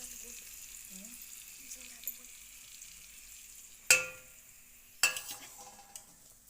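Ingredients are stirred into a sizzling Marathi-style tempering, a faint, low frying hiss punctuated by two sharp spoon-and-pan knocks with a few smaller scrapes after.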